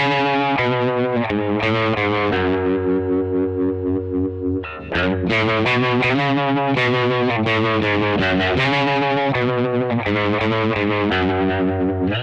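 Electric guitar run through an OPFXS Electric Vibe univibe-style pedal, a continuous melodic part with a throbbing, pulsing modulation that swells and recedes, played alone without talking.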